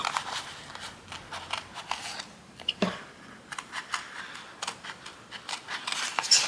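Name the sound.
scissors fussy cutting out paper ephemera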